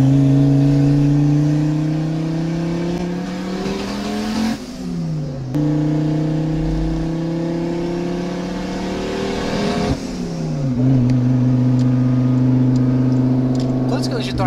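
A Fiat Marea Turbo revving hard late at night, the engine climbing in pitch in long loud pulls, dropping off and climbing again, close to the microphone and steady throughout.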